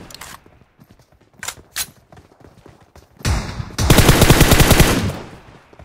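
Shotgun blasts and heavy automatic gunfire in a squad battle-royale shooter game, a few scattered shots early giving way to a loud, dense burst of rapid fire in the last seconds, with faint voices in the background.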